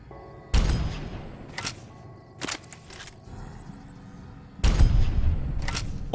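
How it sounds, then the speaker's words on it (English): A body explodes in Fallout: New Vegas with heavy booming thuds, two loud impacts separated by several seconds, joined by sharper shot-like cracks in between. "that explosion of the body"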